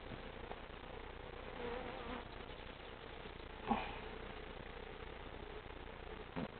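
Honeybees fanning on a hive frame make a faint, steady outdoor buzzing hum that continues throughout with no pause.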